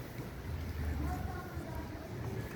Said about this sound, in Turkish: bu motorla Şile'den İstanbul'a seyir haline geçeceğiz.